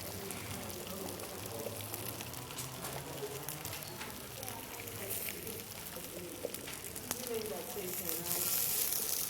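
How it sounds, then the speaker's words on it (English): Vegan Benedict pieces sear in a hot pan, four pieces down at once, giving a steady low sizzle and crackle with faint kitchen bustle around it. "The pan's already hot. If it's not hot, you won't get a very good sear on it."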